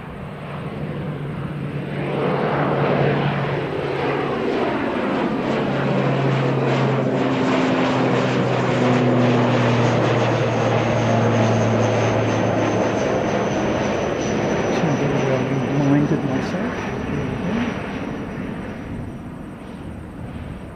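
A propeller aircraft passes an airfield, its engine drone swelling from a distant hum to a loud steady roar and fading again over about twenty seconds, heard alone without talk.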